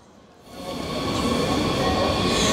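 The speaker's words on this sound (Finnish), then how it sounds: "Siinä menee juna läpi" A train rolls past on a Berlin street, its low rumble rising out of quiet within half a second to a loud, sustained roar with faint metallic wheel noise, close by.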